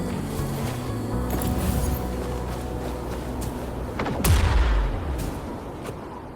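An explosion blasts an opening in a rock formation in Wuthering Waves, a loud burst midway that crackles and rumbles off against a steady background of game music and ambience.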